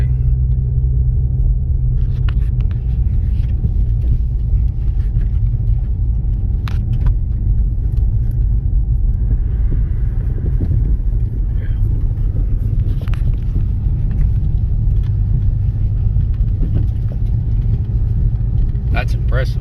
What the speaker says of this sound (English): as radical as that exhaust can feel, it's quiet